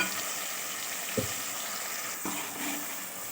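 Masala frying in oil for brinjal curry, a steady close sizzle with a couple of brief stirring knocks.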